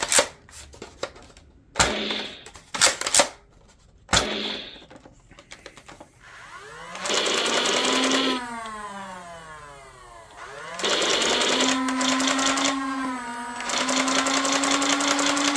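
A custom painted Nerf Pulse Rifle cycling its firing mechanism without darts: a few sharp clicks, then three long whirring electronic bursts that rise and fall in pitch, separated by brief pauses.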